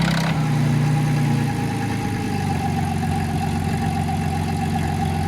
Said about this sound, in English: a beefy engine sound.